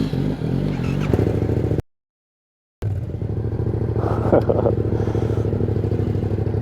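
Yamaha MT-07 2020 naked motorcycle engine rumbling steadily while riding, with a brief revving swell, cut by a second of silence partway through.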